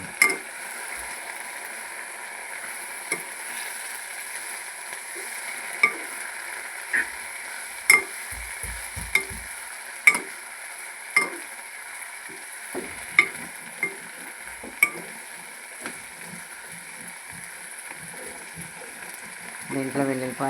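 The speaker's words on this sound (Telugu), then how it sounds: "దీంట్లో వెల్లుల్లిపాయ, చింతపండు ఇవన్నీ వేసేసి తాలింపు అయిపోయింది." Garlic and tamarind sizzle in a tempering for Malabar spinach with black-eyed peas, a steady low fry broken by sharp spoon clicks and scrapes against the pan at irregular intervals.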